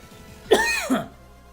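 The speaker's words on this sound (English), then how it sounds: "Cough." A single sharp cough bursts out, followed by a second, lower hack about half a second later, close and fairly loud against a quiet background.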